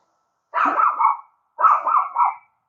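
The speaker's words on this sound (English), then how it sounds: "What you barking about? Are you mad?" A dog gives two barks about a second apart, each drawn out and a little hoarse. Both are fairly close, with silence around them.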